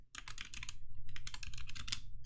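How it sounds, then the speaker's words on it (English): Rapid typing on a computer keyboard, close and clear, with quick bursts of key clicks pausing briefly midway before resuming, with no voices over it. "I'll type it in for you"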